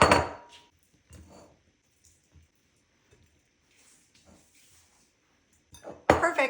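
Hand-torn bread pieces dropped and scraped into a bowl in a kitchen, a few soft thuds and light knocks with quiet gaps, close by, ending in a louder clatter.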